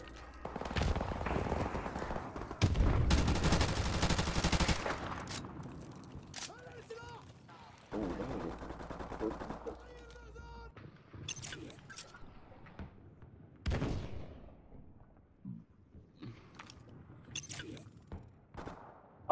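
Bursts of M16 rifle fire in a first-person shooter game, loud clustered volleys and scattered shots mixed with game clatter, while players talk over the action.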